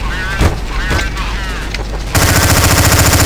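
Gunfire fills a Counter-Strike: Source zombie escape match, with scattered shots under excited voices, then a dense, loud, rapid stream of automatic fire for the last second.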